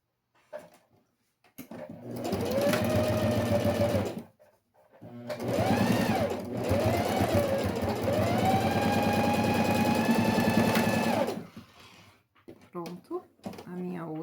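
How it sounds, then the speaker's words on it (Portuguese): A domestic sewing machine stitches a homemade school pencil case, running in two loud close bursts of rapid mechanical whirring separated by a brief pause, with small clicks before and after. "Vamos costurar aqui."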